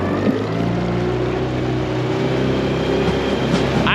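A micro skiff's outboard motor drones steadily while the boat runs across open water, a loud continuous engine hum with low throbbing tones and no talking over it.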